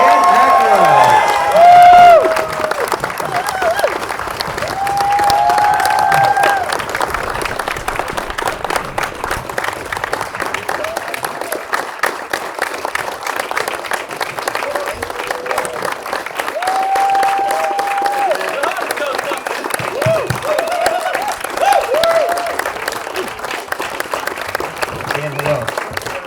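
A fan-festival crowd at a Ghostbusters convention claps and cheers as Dan Aykroyd arrives. Sustained applause, whoops and shouts fill a large room while a voice talks over the noise the whole time.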